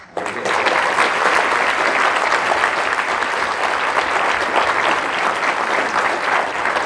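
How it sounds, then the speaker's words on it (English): A high school audience at a Veterans Day ceremony applauds the band and choir with steady, dense clapping that starts abruptly and stays loud and even throughout. "We need to get the band, the choir, another round of applause."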